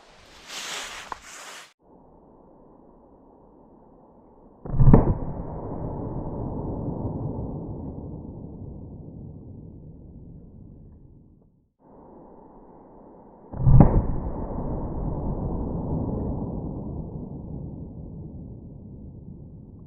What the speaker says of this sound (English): Let's hit that with our 44 Magnum.